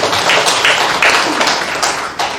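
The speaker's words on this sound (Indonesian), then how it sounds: "Tepuk tangan buat Tuhan." A church congregation applauds with dense, steady clapping, loud and close, sustained for a couple of seconds without talk.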